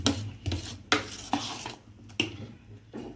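Corn dhokla batter stirred in a bowl with a utensil, giving repeated close scraping and clinking strokes in an uneven rhythm, with no voices.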